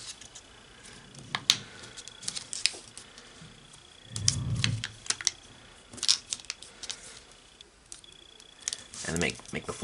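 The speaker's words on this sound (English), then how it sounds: "now we're going to make our diagonal fold" A dollar bill being folded diagonally into an origami heart, with close, intermittent paper crinkles, soft creasing rubs and small clicks spread across the stretch, plus one brief low thump midway.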